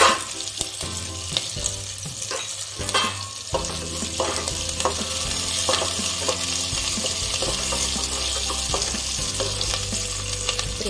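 Curry leaves frying in oil for fenugreek rice hiss with a steady sizzle that swells after a brief lull, along with clinks and scrapes of stirring close by and no speech.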